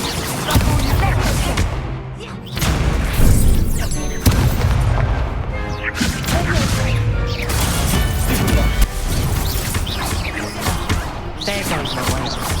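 Spell combat in Hogwarts Legacy with an Expelliarmus cast: loud crashing, booming magical impacts and whooshes layered over game music for the whole stretch, with a brief dip before a heavy hit near the start.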